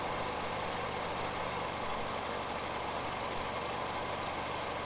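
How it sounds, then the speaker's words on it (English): A Farmall Cub tractor engine idles at close range, a steady, even running drone with a faint regular knock and no voices over it. "This tractor is actually running right now, and you can see how stable it is."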